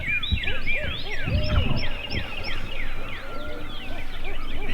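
A wild turkey gobbles in the distance during a spring hunt in Oklahoma, a quick rattling burst standing out amid dense birdsong and soft outdoor ambience.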